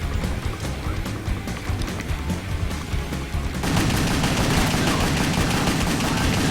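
Crossbow bolts firing and exploding during play of the video game WET, a dense run of overlapping sharp blasts and gunfire-like cracks that grows louder and busier partway through, with no talking.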